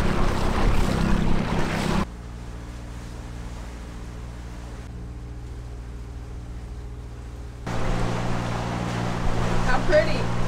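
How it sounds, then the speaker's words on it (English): A sailboat's engine runs steadily on open water, a low constant drone with stable harmonic hum, louder with wind and wave noise at the start and end and quieter in the middle. "One engine on."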